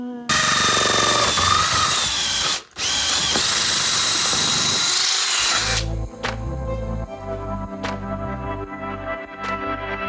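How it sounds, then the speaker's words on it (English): Power tool cutting into the fiberglass roof of a semi-trailer, a loud continuous whine that drops out briefly and then gives way to lower, rougher grinding, close and alone. "Here we go, cutting into the whole roof again."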